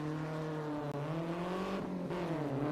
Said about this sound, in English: Beautiful launch in the MR2.